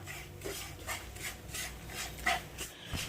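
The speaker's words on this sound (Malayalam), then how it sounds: "ഇനി ഇത് നമുക്ക് നന്നായിട്ടൊന്ന് ഇളക്കി കൊടുക്കാം" Chili, turmeric powder and coconut stirred in a pan for a roasted-spice chicken curry, a quiet, repeated scraping and rubbing with a soft, uneven rhythm and no voices.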